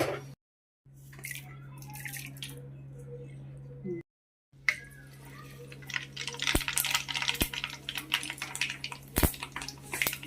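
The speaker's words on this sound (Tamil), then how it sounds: "கடுகு பொரியுது" Mustard seeds splutter in hot oil in a pan while a Tamil fish thokku is being cooked, with soft wet bubbling giving way to irregular crackling pops toward the end.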